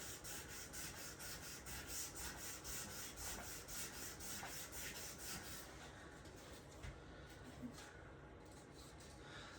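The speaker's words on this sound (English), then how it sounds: "Again, with sanding the edges," Hand sanding along the edges of a wooden piece, steady rhythmic rasping strokes repeating quickly and close by, easing off and growing sparser toward the end.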